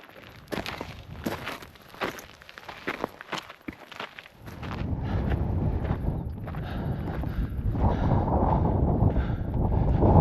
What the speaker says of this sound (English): Wind up here is really strong and very cold.